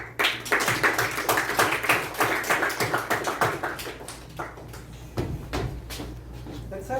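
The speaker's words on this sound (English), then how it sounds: "Give a round of applause." At a youth workshop event, a small group claps in scattered, irregular bursts, loud at first and then tapering to sparse individual claps over a low background hum.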